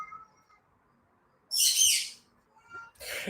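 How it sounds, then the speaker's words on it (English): A pet bird at home lets out two harsh, hissy squawking bursts, the first longer and louder, the second shorter, after a stretch of near quiet with faint background tones. "So my bird is singing along with my daughter."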